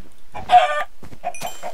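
Chickens in the Minecraft video game give short, bright clucks, one burst near the start and another toward the end, fairly close and alone with no talking.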